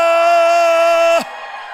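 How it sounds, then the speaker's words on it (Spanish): A church congregation lets out a long, loud, sustained shout of joy in unison, then it drops away abruptly into a quieter hall tone. "Un grito de júbilo."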